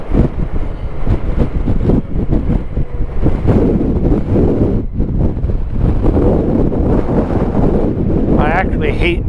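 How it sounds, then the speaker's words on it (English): Strong wind buffets the microphone in a constant loud roar while riding, with a voice speaking partly buried under the gusting noise. "I actually hate the wind more than I hate riding in the rain."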